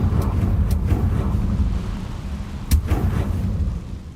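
A Confringo fire spell from Hogwarts Legacy goes off in a few sharp booming blasts over a rumbling game background, with one especially strong hit near the end.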